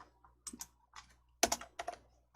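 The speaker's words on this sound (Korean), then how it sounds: "문서 맨 앞에 커서 넣어주시고 엔터 2번 치실 거예요" Keys tapped on a computer keyboard while editing a document, a handful of crisp close clicks in small clusters with quiet gaps between, no talking.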